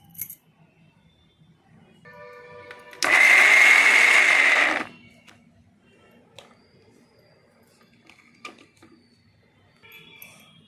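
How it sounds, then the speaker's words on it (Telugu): An electric mixer grinder coarsely grinds a spice mix for an ivy gourd dish, one loud whirring burst of about two seconds, with quiet kitchen clatter and small knocks before and after. "ఇదిగోండి, ఇలా మిక్సీలో వేసి పెట్టాను. ఇక మూత పెట్టేస్తున్నానండి. ఇప్పుడు దీన్ని మిక్స్ పడదామండి మనం."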